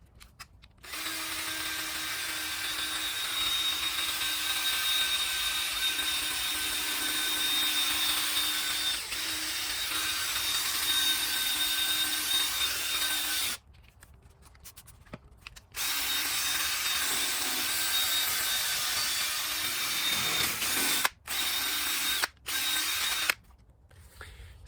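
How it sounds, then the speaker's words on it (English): Rotary sander working a plastic car headlight lens with 3000 grit sandpaper from a 3M restoration kit, a steady loud whirring drone that runs for long stretches, stops briefly, then resumes in short bursts near the end. "So far we got to this point with the 3000 grit sandpaper"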